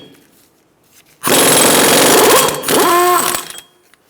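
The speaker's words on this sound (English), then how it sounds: "Using a 32mm axle nut socket, we're going to remove the axle nut." An impact wrench with a 32mm socket zips off the rear axle nut of a 2002–2006 Honda CR-V, firing in a loud burst of just over a second, dipping briefly and then resuming before cutting off.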